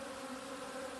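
Honey bees buzzing around a farm beehive, a steady, dense hum of many insects close by, continuous and unbroken with no talking.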